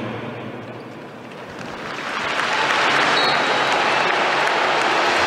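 Stadium crowd at a Hungary versus England Nations League football match applauds in tribute to former Hungarian international István Szőke, a broad sustained wash of clapping that swells after a quieter opening and holds steady.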